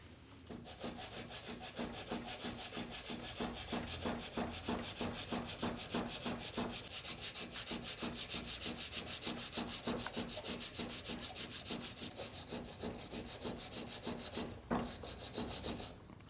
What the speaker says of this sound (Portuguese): A lixa precisa estar bem apertada,